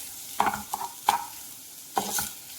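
Boiled and drained chaya leaves, also called Mexican spinach, are stirred into cooking coconut, with four or five distinct spoon scrapes and clacks against the pan over a faint sizzle and no speech.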